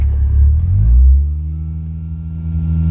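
Toyota Supra JZA70 under restoration, its engine running very loud nearby, a deep rumbling idle that swells briefly as if revved, then settles into a steady throaty drone.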